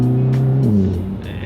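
A VW Golf MK7 GTI accelerates hard in third gear, a loud close-up engine note rising then dipping as it pulls for a second and a half.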